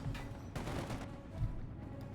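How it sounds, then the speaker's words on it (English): MG42 machine-gun fire in Company of Heroes 2 during a match: quiet, distant bursts of gunfire rattle under a constant battle-noise bed, with a couple of dull low thumps mixed in. "adding the penal amount of MG42"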